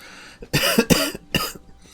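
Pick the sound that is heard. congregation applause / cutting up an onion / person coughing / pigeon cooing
person coughing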